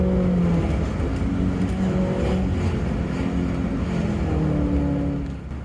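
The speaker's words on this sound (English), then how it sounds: "we drive the car." A Subaru with a CVT drives along, giving a steady engine drone and road roar heard from close by, with no voices, easing off slightly at the end.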